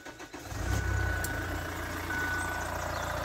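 Car engine idling steadily with a faint high-pitched chirp from a bearing after sitting unused for a long time, a continuous low rumble heard close up with no talk.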